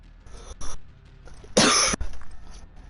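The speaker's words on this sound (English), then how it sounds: "Sorry, I got a cough." A single harsh cough from a man hosting a gaming talk show, loud and close, preceded by a couple of shorter throat sounds and followed by quieter breathing.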